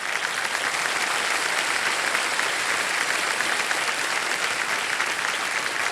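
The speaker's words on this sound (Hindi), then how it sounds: "ताली बजती रहे इनके लिए।" A studio audience on the Indian quiz show Kaun Banega Crorepati claps for a contestant who has just won prize money, a dense, even burst of applause that stays loud and unbroken with no talk.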